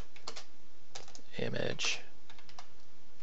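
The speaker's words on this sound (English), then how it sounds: "Ignore my typing." Computer keyboard typing while coding in QML, with scattered short bursts of clicks and one louder cluster in the middle, and a voice speaking briefly.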